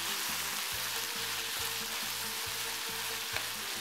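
Broccoli hits a pan of frying chow mein vegetables, setting off a loud, continuous sizzle with rhythmic scraping and stirring strokes close by.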